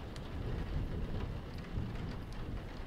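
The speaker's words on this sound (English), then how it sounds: "we're having a rainy day" Steady rain falling on a rainy day, a dense, even wash of drops with a low rumbling undertone, continuous and fairly close.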